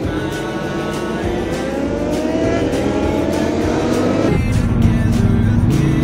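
A crowd of motorcycles, from sports, naked and adventure bikes to scooters, rides along the Marilaque highway, engines droning close and continuously with rising revs and a sharp shift in pitch partway through.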